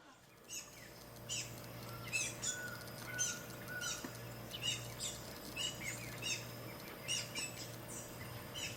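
Many birds chirp and squawk in quick, scattered calls against a steady low hum, fairly close and continuous throughout, just after rain has stopped.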